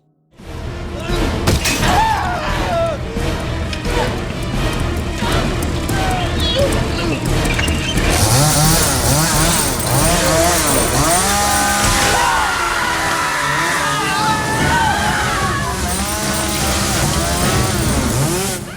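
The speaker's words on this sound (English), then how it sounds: "the explicit sight of the chainsaw approaching and cutting into Morgan's groin was eliminated" Chainsaw roaring through a gory horror scene in The Texas Chainsaw Massacre film, loud and continuous with a revving engine whine, layered with screams and frantic shouting.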